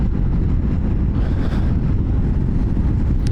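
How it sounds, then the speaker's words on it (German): Strong wind roars over a motorcyclist during a ride on quiet rural roads among vineyards in France, a loud, continuous low buffeting rush close to the microphone with no speech. "Aber heute ist es hier brutal windig."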